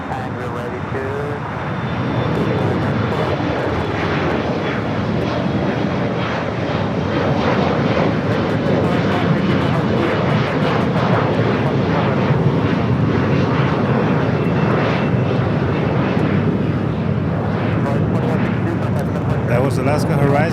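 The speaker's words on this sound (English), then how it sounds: "That was Alaska Horizon going to Redmond on a 7-year-old Embraer E175." Alaska Horizon Embraer E175 regional jet, seven years old, at Los Angeles airport: a loud, steady broadband engine roar sustained throughout, with a faint whine on top and voices talking underneath.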